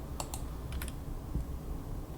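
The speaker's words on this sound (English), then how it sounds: "you can hit F1 on your keyboard and it will bring up help" Faint keystrokes tap on a computer keyboard as the F1 key is pressed, a few soft clicks over a steady background hiss.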